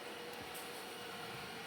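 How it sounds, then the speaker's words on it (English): Vacuum cleaner running indoors: a steady, even broadband roar that continues unchanged from start to finish, with no voices. "The vacuum cleaner's distracting you."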